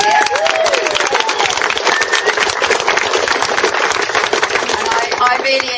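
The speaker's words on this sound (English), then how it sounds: "Let's hear a clap for Badir." Guests at a wedding celebration clap for the chef Badir, a dense, continuous wash of applause with whistles and cheering voices mixed in, fairly loud throughout.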